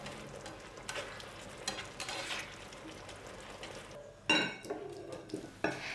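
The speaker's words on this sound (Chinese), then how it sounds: "就把淀粉高汤加进去，翻炒至汤汁变稠。" Broccoli being stir-fried in a pan as starch-thickened broth is added and stirred until the sauce thickens: a soft sizzle under scraping spatula strokes, with a couple of louder clanks of utensil against pan near the end.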